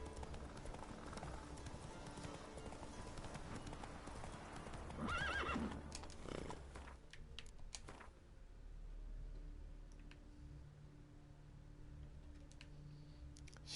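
Roach, a horse in The Witcher 3: Wild Hunt, gallops with fast, rhythmic hoofbeats and neighs once partway through, after which the hooves slow and fade under quieter ambience.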